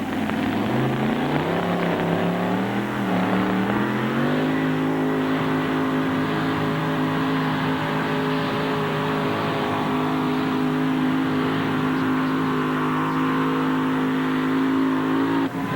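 A 1974 El Camino super modified truck roars at full throttle at a truck pull, the engine revving up in the first seconds and then holding a loud, sustained howl with strong harmonics throughout.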